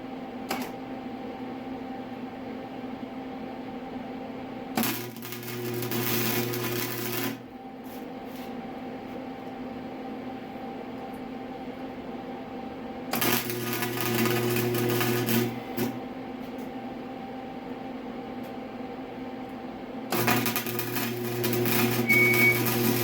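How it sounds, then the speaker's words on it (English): Welding the inside of a motorcycle exhaust flange: steady crackling buzz in three bursts of a few seconds each, separated by pauses with a low background hum, close and moderately loud. "I'm going to finish up with the inside weld"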